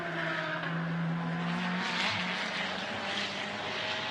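GT race cars lap the Sepang circuit during Blancpain GT Series Asia qualifying, a continuous engine drone with one car's rising whine passing, then a broad swelling roar as more cars go by.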